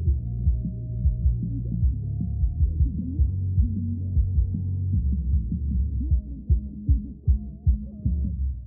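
Kick drum and bass guitar squeezed by a multiband compressor, a deep, thumping low-end groove with regular punchy kick hits and a rounded bass line, playing alone without talk.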